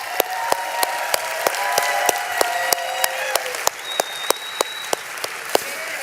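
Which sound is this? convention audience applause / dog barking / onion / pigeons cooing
convention audience applause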